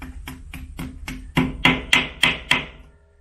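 A hammer taps a wall plug into place with about ten evenly spaced sharp knocks, the later blows louder and ringing, close and alone.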